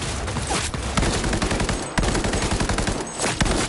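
Rapid, heavy automatic gunfire in Cyberpunk 2077, a sustained stream of loud close shots with a few brief gaps, no voices over it.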